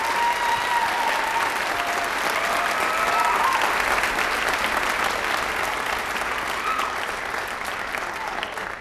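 Steady audience applause fills a high school choral concert hall, dense clapping from a crowd that holds evenly for several seconds before easing slightly at the end.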